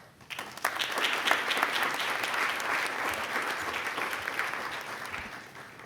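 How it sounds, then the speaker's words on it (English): Audience applause at a university convocation ceremony, a steady wash of many hands clapping that rises quickly and holds loud and even throughout, heard from within the hall. "Please give Dr. Agloro a round of applause."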